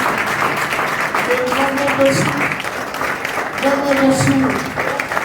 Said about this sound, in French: Je veux qu'on acclame le Seigneur de la vie.